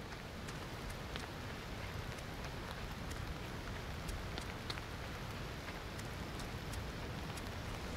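Steady rain in the survival game Aloft, an even hiss of drops falling on surfaces with scattered brighter patters, constant and fairly soft throughout with no talking.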